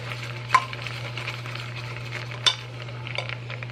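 Dijon mustard stirred into a sauce cooking in a pan, a low steady simmer with soft scraping strokes and two brief louder clinks of a spoon against the pan.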